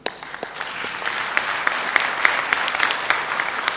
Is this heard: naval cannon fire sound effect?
no